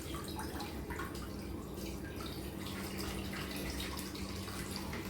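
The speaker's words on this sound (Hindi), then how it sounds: "गैस में हम चढ़ा देंगे कढ़ाई में 2 गिलास पानी।" Water is poured into a kadhai on a kitchen gas stove, a steady splashing rush that holds evenly throughout.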